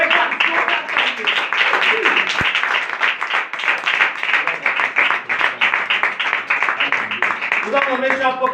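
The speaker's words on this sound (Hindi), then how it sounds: "एक बार जोरदार ताली।" A crowd claps loudly and steadily for several seconds, a dense wash of applause with a voice rising briefly near the end.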